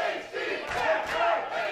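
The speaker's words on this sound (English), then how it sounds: "And you can again hear this crowd" Lively cheering from a Prestige Wrestling crowd swells and surges, a dense continuous roar of many voices with a few louder peaks of shouting.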